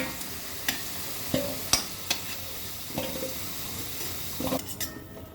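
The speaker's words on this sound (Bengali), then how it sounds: "আলু ভাজা হয়ে গেছে এবার তুলে নিচ্ছি" Potatoes frying in oil in a home kitchen, with a steady low sizzle and several sharp clinks and scrapes of a utensil against the pan spread across the moment, no talking.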